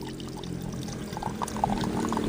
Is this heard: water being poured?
yes